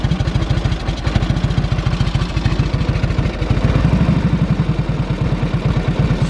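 A 1946 Indian Chief motorcycle's V-twin engine idles unevenly after a cold start, with a steady, loud, lumpy low-pitched chug and rapid firing pulses that loosen and speed up slightly midway.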